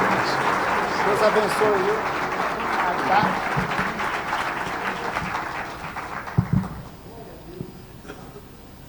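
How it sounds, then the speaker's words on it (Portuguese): A church congregation at a global convention applauding, steady loud clapping from a large crowd that fades out over the last seconds, with someone speaking briefly over it. "As palmas aplaudem o Senhor Jesus pela vida do pastor."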